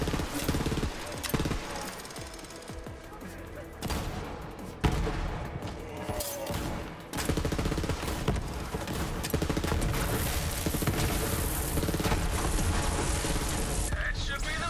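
Gunfire in the video game Borderlands 3, dense bursts of shots and fusillade-like crackle running almost continuously and loud across the stretch, with voices and game effects mixed in.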